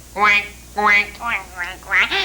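A voice imitates a duck, making five nasal, drawn-out quacks in an uneven rhythm, close and clear.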